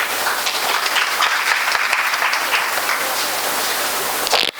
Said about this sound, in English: 21 to 24 batch, please welcome her with a big round of applause.